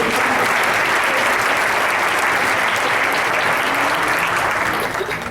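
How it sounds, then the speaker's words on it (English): An audience at a girls' basketball club awards banquet bursts into sustained, dense applause that holds loud and even for several seconds before starting to taper. "Let's clap it up."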